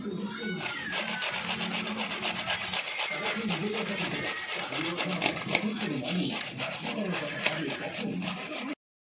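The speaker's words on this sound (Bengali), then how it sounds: "এই দেখুন এমনি গ্রেড করে নেব আপনার থেতো করে নিতেও পারেন" Green mango being grated by hand, a continuous rhythmic rasping scrape at close range with quick repeated strokes, while a person speaks over it.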